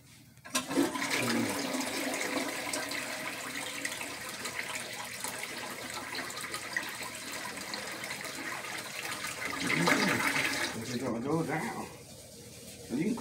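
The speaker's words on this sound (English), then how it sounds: "You gotta flush that or it's gonna stop it up." A toilet flushing in a hotel room bathroom: a loud, steady rush of water that continues for many seconds, surging again briefly before it fades.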